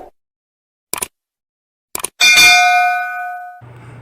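Notification bell ding sound effect: two soft clicks, then a bright metallic ding that rings out clearly and decays over about a second and a half, ending with a low hum.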